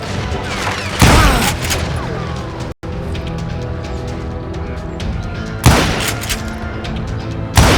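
Loud gunfire bursts in the Western shooter game Call of Juarez Gunslinger, with sharp blasts near 1, 5.6 and 7.7 seconds over a dense, continuous layer of game noise and rumble.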